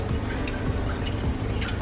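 Sauce mixture pours over drained turkey meat in a pan, giving a continuous wet, splashing trickle with small drip-like ticks, close and steady throughout.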